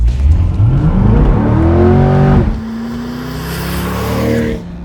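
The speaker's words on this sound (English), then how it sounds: "a wet racetrack probably isn't the best place to be driving a high-powered rear-wheel drive American muscle car" A rear-wheel-drive Chevrolet Corvette accelerates hard on a wet racetrack, its engine note climbing through the gears with a shift pause midway, loud and close, then rising again with a faint hiss of spray.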